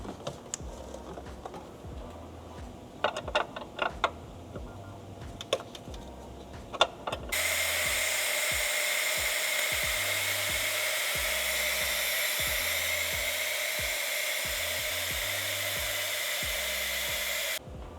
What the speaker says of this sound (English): Crack the line, we'll vacuum out the fluid here